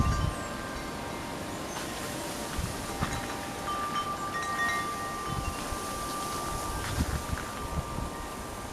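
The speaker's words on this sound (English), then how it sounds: "The wind is blowing from the east, so that's pretty cold when it blows from the east." Cold east wind blowing outdoors near a garden, heard as a steady rushing roar across the microphone with a faint tonal hum and occasional rustle, continuous and fairly low in level.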